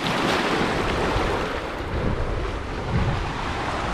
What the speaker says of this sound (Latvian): Это море.